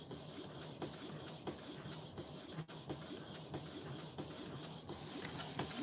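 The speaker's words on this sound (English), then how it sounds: "Yep, it's printing." A printer runs while printing for cake decorating. It gives a quiet, steady mechanical whir with regular soft clicks as the print head shuttles, with no voices.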